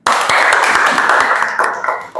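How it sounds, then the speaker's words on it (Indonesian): A class of pupils gives a quick round of clapping for two classmates during an Islamic education lesson, loud and close, a dense burst lasting about two seconds. "Tepuk tangan untuk Riris dan untuk Sintika"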